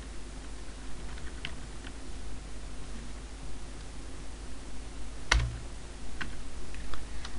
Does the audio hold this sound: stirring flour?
no